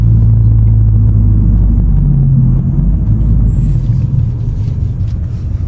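Audi car driving after a gearbox repair, heard as a loud, close, low interior rumble of engine and road with slight shifts in pitch as it changes gear.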